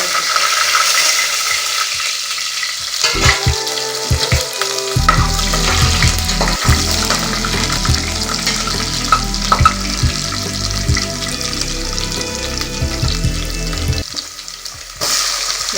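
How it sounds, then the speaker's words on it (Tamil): Spices sizzle and crackle in hot ghee, Dalda and oil while tempered in a pan for a South Indian vegetable biryani, with a loud steady frying hiss and occasional stirring clatter throughout, quieter at the start. "எண்ணெய் சூடான பிறகு இதெல்லாம் போட்டு தாளிக்கணும்."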